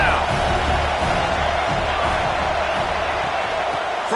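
Home stadium crowd roaring steadily throughout a football game, a dense, loud wash of cheering with no breaks.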